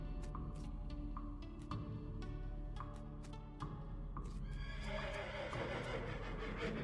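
A spooky, translucent ghost horse in the video game West of Loathing gives a series of short, evenly spaced snorts and stamps, then a longer whinny near the end, all clear and close.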